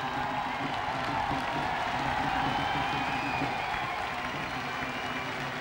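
A crowd gathered in the town square in Reus applauds a human tower of the Xiquets de Reus, steady dense clapping with scattered cheers that holds at an even level throughout.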